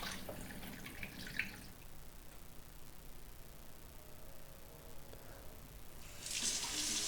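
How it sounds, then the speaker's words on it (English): Homemade nettle beer poured through a funnel into bottles, a faint trickling liquid splash with gentle gurgles, growing into a brighter gush toward the end. "sterilize your bottles and pour through a funnel into each bottle"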